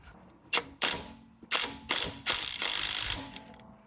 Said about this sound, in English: Now I'll have to get my impact to give them a little bit more of a turn